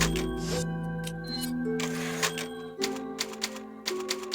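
Typewriter keys clack in Resident Evil 4, a run of sharp taps with irregular rhythm over steady background game music.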